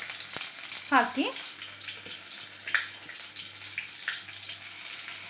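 Crushed garlic frying in a pan for red rice gives a steady soft sizzle with stirring scrapes and a clink or two, while a voice briefly speaks over it.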